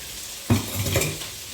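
Onions brown in a frying pan, a soft sizzle that swells when a spatula scrapes and stirs them, with a few metallic clinks against the pan.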